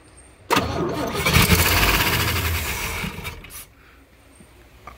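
A 1959 Chevy Apache truck engine that had sat for 25 years cranks and catches with a sudden loud burst. It roars roughly for about three seconds, then drops away into quiet.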